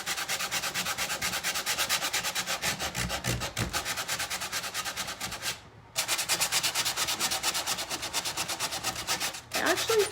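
Hand sanding of wood on repurposed furniture, a steady rapid back-and-forth rasping close up, continuous with two brief pauses.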